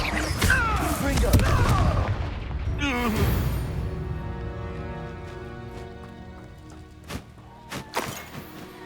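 A Confringo fire spell explodes in Hogwarts Legacy, a loud booming blast with crackling debris that rolls on and fades over several seconds, followed by a couple of sharper impacts near the end.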